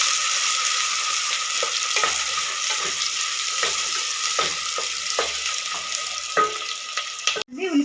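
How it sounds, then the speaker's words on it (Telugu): Two onions and four green chillies fry in hot oil, a steady loud sizzle with repeated sharp taps and scrapes of a stirring spoon against the pan, no voices. "నూనె వేడైపోయింది. నేను 2 ఉల్లిగడ్డలు వేసుకుంటున్నాను. ఒక 4 పచ్చిమిరపకాయలు ఫ్రై చేసుకుందాం."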